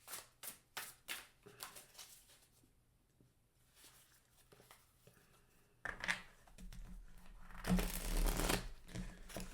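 A deck of tarot cards is shuffled by hand in quiet, soft riffles and flutters, then a denser, louder burst of shuffling toward the end.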